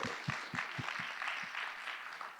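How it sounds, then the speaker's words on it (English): An audience claps in a steady, full round of applause at a leadership forum and awards celebration, dense overlapping claps sustained throughout at moderate volume. "Round of applause."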